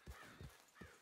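Horse hooves in Red Dead Redemption 2 strike in an even clip-clop, three soft, muffled thuds spaced about every four tenths of a second over faint ambient noise.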